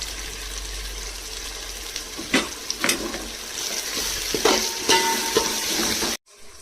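Tomato and onion paste frying in a pan for mutton biryani, a steady sizzle with scattered stirring clicks and scrapes, ending abruptly in near silence.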